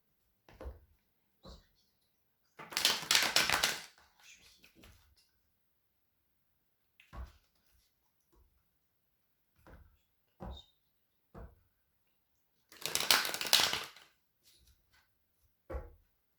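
Oracle cards are shuffled in two brief, rustling flurries close by, with scattered soft taps and clicks in the quiet between them.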